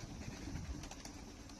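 Pigeons cooing softly with low, murmuring calls amid faint outdoor background noise.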